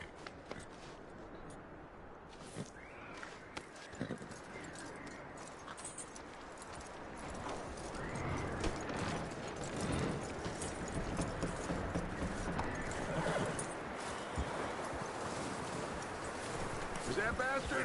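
Horse hooves clip-clop in Red Dead Redemption 2, a steady rhythmic trot that grows louder and more continuous in the second half, heard alongside ambient game sounds.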